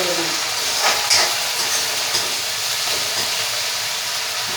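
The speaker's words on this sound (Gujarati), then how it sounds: "પાન છે થોડીક વાર આમાં પાકવા દેવું તેલમાં." Drumstick leaves cooking in hot oil in a pan for a potato curry, giving a continuous soft sizzle and hiss with a few faint clinks, heard close and without talk.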